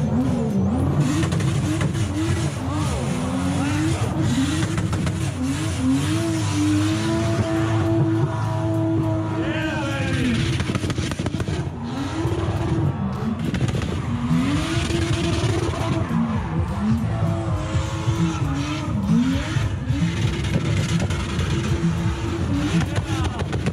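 Pagani Huayra supercar taking off, a loud roaring engine rising and falling through repeated revving pulls and gear changes, close and sustained over the whole stretch.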